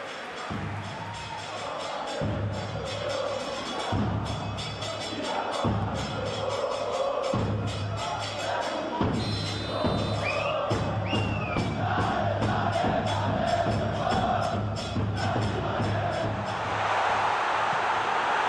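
A stadium crowd in the PES 2020 football game makes a steady roar with rising cheers and whoops, and a commentator talks over it throughout.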